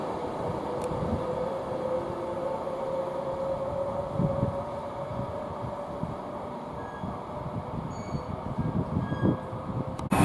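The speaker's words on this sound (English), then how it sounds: "there goes 390-119 on a service to Manchester Piccadilly" A Class 390 electric train passes at Nuneaton on the West Coast Main Line, a low steady rumble with faint rail clatter, moderately distant and fairly quiet.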